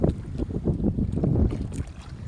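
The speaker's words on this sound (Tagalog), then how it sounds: "Medyo mahangin at maalon" Gusty wind buffets the microphone over choppy waves slapping against a small boat at sea, a steady rumbling wash with no speech.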